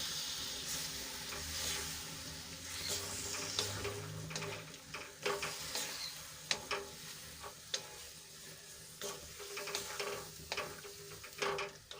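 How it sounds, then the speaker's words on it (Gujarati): Pieces of millet roti stirred in a spiced pan, giving a soft continuous sizzle with scraping and clinking strokes of the spoon, faint and close, with no talking. "અને હવે એમાં આપણે બાજરીના રોટલાના જે કટકા કર્યા હતા એ એડ કરી દઈશું અને સરસ રીતે મિક્સ કરી લેશું"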